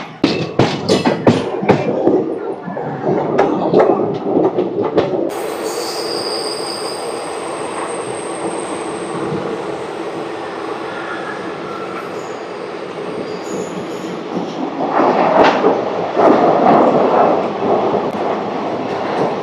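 The 17479 Puri Tirupati Express runs along the rails, with rhythmic clattering wheels at first, then a steady rumbling roll with high wheel squeal. The clatter rises again near the end, close and loud throughout.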